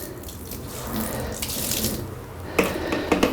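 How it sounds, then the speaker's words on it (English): Water tipped from a half-full tub onto a piece of carpet to saturate it, a steady pouring splash that ends in a few sharper splashes and drips, close and alone. "we'll saturate this piece of carpet"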